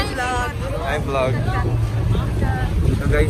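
A boat ride on the Matthew Elizabeth at Boracay: a steady engine rumble and water wash run throughout, while several people talk over it.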